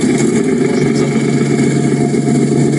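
A small diesel engine of a Japanese mini tractor runs steadily at a low, even chugging idle, loud and close, with no voices.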